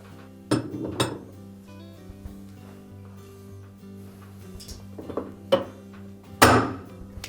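Metal clanks and clinks from a wrench working the left-hand-thread inner tub hub nut on a GE washer, a few sharp knocks spaced over several seconds against a quiet hum.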